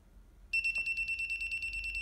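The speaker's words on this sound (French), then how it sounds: "avec ce stylo pour détecter l'électricité que émane l'appareil, ça va biper" A steady, high-pitched electronic beeping from an electricity detector pen starts abruptly after a brief silence and pulses rapidly without pause, fairly loud and close.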